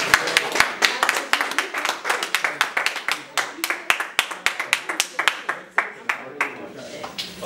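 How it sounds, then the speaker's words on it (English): Students at a high school career day presentation clap for a photographer, giving scattered individual claps with a loose, uneven rhythm that gradually thins and fades out toward the end. "give a man a round of applause"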